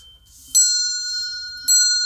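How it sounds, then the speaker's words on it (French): A magician's bell struck twice, each a bright clear ring with a long sustained metallic tone, loud and close with no talking. "vous allez tout simplement faire sonner la cloche"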